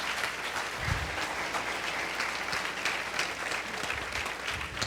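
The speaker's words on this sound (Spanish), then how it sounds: "Den un aplauso al Señor, por favor." A church congregation applauds during a Spanish-language sermon, a loud, sustained wash of many hands clapping from start to finish with no talking.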